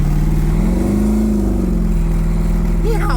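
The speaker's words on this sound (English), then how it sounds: "Let's take the Camaro for a ride." Chevrolet Camaro engine droning steadily from inside the car on a short road drive, a loud, constant low hum with a slight rise in pitch partway through.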